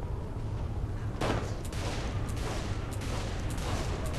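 Pistol gunshots in the video game Saints Row IV: a handful of sharp, spaced-out shots at a slow rate, ringing over a steady low game-ambience rumble.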